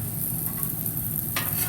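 Chicken stir fry sizzles steadily on a Blackstone griddle, a close, even hiss with a brief scrape near the end.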